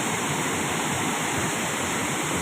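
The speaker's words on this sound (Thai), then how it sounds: "นี่ครับเห็นน้ำตกไหมครับ" A continuous, loud roar of rushing water from nearby Tat Ton waterfall in Chaiyaphum, Thailand, steady and unbroken throughout.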